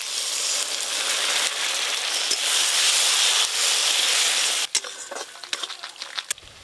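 Poppy seed paste added to a pan of rohu fish frying in spiced oil, a loud, steady sizzle and hiss that drops away near the end, followed by scattered clinks and scrapes.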